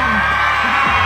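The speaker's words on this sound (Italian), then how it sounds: "vogliamo prima di tutto sentire l'urlo dei maschietti" A crowd of young boys shouts together at an in-store fan event in a shopping centre, a loud sustained roar of yelling and whooping, close and dense throughout.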